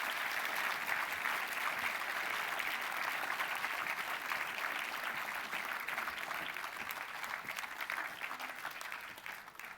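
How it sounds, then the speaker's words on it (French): A crowd claps loudly and steadily for nearly ten seconds at a doctoral graduation ceremony, in a sustained, dense wash of clapping that fades slightly toward the end, with no voices over it. "on les applaudit tous bien fort une dernière fois"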